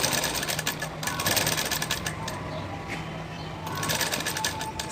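A sewing machine stitches a neck band with a close, rapid mechanical rattle in bursts, pausing briefly midway before running again.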